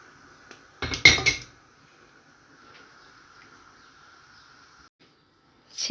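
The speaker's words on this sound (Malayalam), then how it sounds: "അപ്പോൾ നമുക്ക് ഇതിലേക്ക് വറുത്ത് വെച്ചിരിക്കുന്ന ചിക്കൻ ചേർത്ത് കൊടുക്കാം." Fried chicken pieces tipped into a pan of curry for butter chicken, giving a short loud burst of clattering and clinking against the pan around the one-second mark, then a quiet simmering background with another clink at the end.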